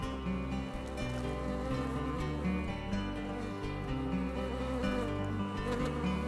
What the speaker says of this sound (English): Thousands and thousands of bees.